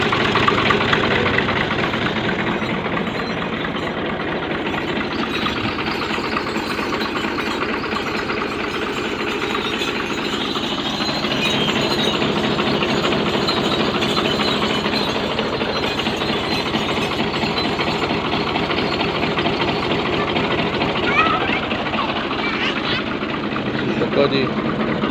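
A 1981 Fiat 480 tractor engine idles steadily and continuously at close range for the whole stretch, a dense rumbling drone with a faint knock running through it.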